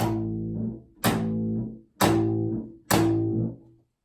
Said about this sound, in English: The slap technique is where you play a note on the double bass and also there is a slap